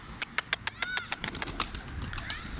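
Newly arrived pied pigeons take off and flap their wings, a rapid series of sharp, close wingbeat claps repeating through the whole stretch, with faint bird calls in between.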